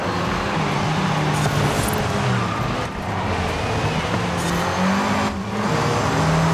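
The Alfa Romeo 4C's engine drones and shifts as it drives in the racing game Forza Horizon 5, with steady engine tones, brief dips at gear changes and continuous road noise, no voices.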